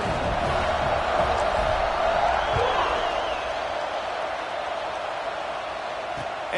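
A stadium crowd at a college football game between Tennessee and Missouri sends up a sustained, roaring murmur with scattered shouts, holding steady throughout and easing slightly toward the end.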